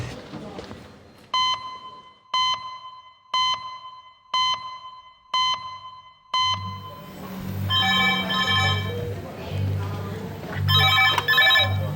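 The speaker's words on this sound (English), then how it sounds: "That's Hem's red phone, 10 minutes." A red emergency phone in a hospital A&E department rings in six evenly spaced, loud electronic bursts about a second apart, then busy ward noise with voices and clatter takes over.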